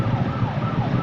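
An ambulance siren wails amid dense, loud traffic noise, sounding close and continuous through the whole short moment while the vehicle sits stuck in congestion.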